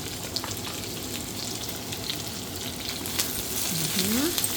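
Carrots and Baguio beans stir-fry in a pan for sotanghon gisado, a steady close sizzle with the clatter of a stirring utensil, and a faint voice rises briefly near the end.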